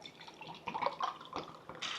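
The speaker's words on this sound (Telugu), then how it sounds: "ఇప్పుడు దీంట్లోకి 3 గ్లాసులు నీళ్ళు తీసుకుంటా." Water poured from a glass into a pot of soaked basmati rice while making malai chicken biryani, a close, uneven splashing and trickling pour lasting about two seconds with no talk.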